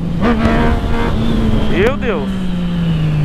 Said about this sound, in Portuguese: Reduz a moto.